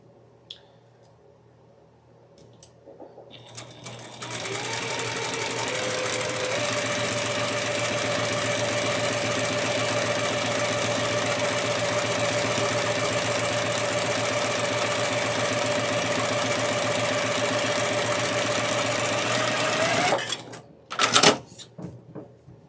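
A sewing machine stitches a quilt block a quarter inch from the edge, running in one long steady close whir for about fifteen seconds before stopping, followed by a couple of brief clicks.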